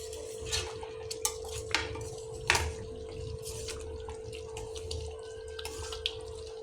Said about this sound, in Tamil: இப்போ இதை ஒரு சர்விங் பவுலுக்கு மாற்றிக்கலாம்